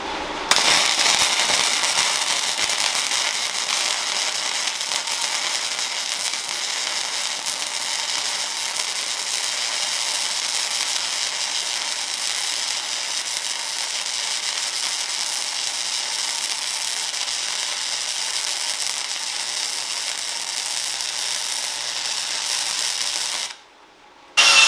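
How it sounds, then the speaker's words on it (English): A flux core welder lays a weld bead with a loud, steady, close-up crackling hiss that runs without a break for over twenty seconds, then cuts off abruptly. "Hopefully we can finish this weld without turning the power off again."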